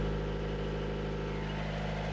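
A sailboat's diesel engine idles at about 750 rpm, a steady, even low-pitched drone that holds throughout with no talk over it.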